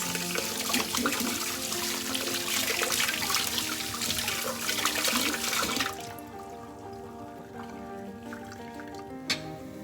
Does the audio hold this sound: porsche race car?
no